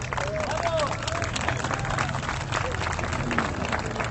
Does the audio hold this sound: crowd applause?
yes